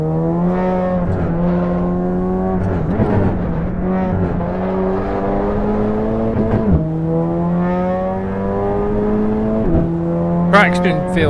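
A Porsche 911 GT3 race engine in Assetto Corsa Evo droning loudly on the Nordschleife, rising through the revs with sharp dips at gear shifts and a tire chirp near the end, alone without talk.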